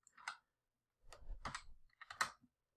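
Computer keyboard typing: three short bursts of keystrokes, close and fairly quiet, with soft low thumps under the clicks and no talking.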